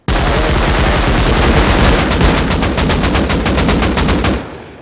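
Video game gunfire, a dense continuous burst of rapid automatic shots that turn into distinct evenly spaced rounds before cutting off, loud and close.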